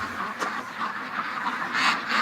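Ducks quack in agitated alarm near a swamp, a dense, continuous chorus of overlapping calls heard fairly close.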